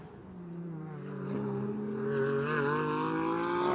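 A GT4 race car pulls out of the pits during a Pirelli GT4 America race at Circuit of the Americas, its engine note climbing steadily in pitch and loudness as it accelerates, a close, continuous drone.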